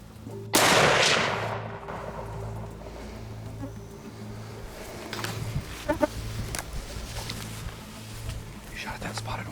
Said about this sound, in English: You shot at that spotted one.